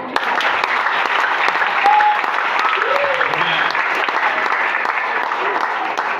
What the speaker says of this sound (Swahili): Mtaweza makofi mazuri